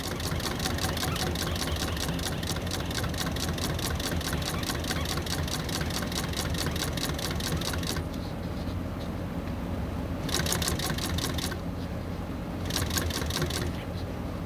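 A sewing machine stitches car seat upholstery with a fast, steady mechanical clatter that runs continuously, then breaks into short bursts with brief pauses between them.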